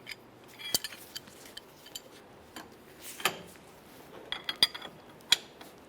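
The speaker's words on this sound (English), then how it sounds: "Hold on to the inner tie rod end to prevent it from moving, and tighten up the jam nut." Sparse metallic clicks and ratcheting taps of a wrench tightening the jam nut on the outer tie rod end of a 2002–2009 Chevrolet Trailblazer, close and fairly faint, with a few sharper clinks near the end.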